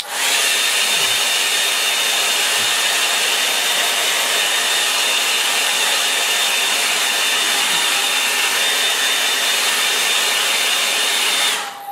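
A hair dryer blows steadily and loudly on wet watercolor paint for the whole stretch, a constant rushing whir with a faint high whine, cutting off at the very end.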